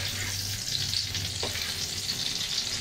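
An eggplant omelette (tortang talong with ground pork) fries in oil with a steady, close sizzle that holds evenly throughout, with no talking.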